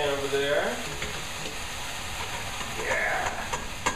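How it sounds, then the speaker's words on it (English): Venison sizzles and crackles in a hot pan, with a couple of brief stirring scrapes over the steady frying hiss. "That sizzle means that flavor is happening."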